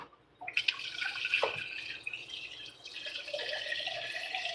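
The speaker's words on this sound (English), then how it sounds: "Fill it up with water." Filtered water from a tap trickles and splashes into a cup, starting with a few drips, then a steadier close stream that shifts pitch as the cup fills.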